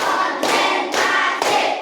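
Claps landing in a steady rhythm: four broad bursts of hand clapping by a school class following a teacher's count, evenly spaced about half a second apart, close and fairly loud, with no talking.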